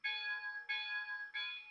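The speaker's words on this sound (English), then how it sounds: "Here's the bell." A locomotive bell from a Soundtraxx sound decoder in an HO scale Rivarossi 4-8-8-4 Union Pacific Big Boy rings three times in an even rhythm, each clear metallic strike decaying briefly before the next, with no other sound.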